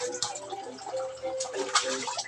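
Aggressive monster fish thrash and splash water, giving a run of wet slaps and sloshing bursts close by while a voice talks over them.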